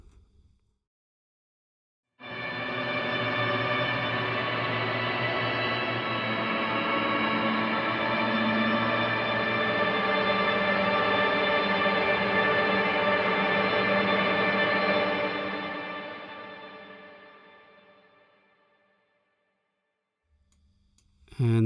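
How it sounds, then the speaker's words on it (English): After a short silence, a sustained guitar pad swells in through a Big Sky reverb pedal, holds steadily, then decays slowly into a long fading tail. "this is the same thing through the Big Sky reverb pedal"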